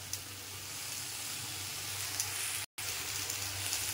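Spices, including sugar, turmeric and chili powder, land in a hot oiled pan that keeps up a steady, close sizzle, with a brief dropout near the end and no talking.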